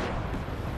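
Just Cause 3 explosion, a brief dense blast of booming rumble, loud and close, filling the moment with no clear decay.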